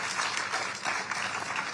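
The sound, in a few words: audience applause at a literary festival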